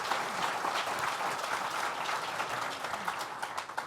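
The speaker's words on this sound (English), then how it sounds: "Another round of applause for Mayor Maney, the team that put this together." An audience applauds Mayor Maney at a Southern Tier regional development event, a steady, dense round of many hands clapping throughout, tapering slightly with a few louder claps near the end.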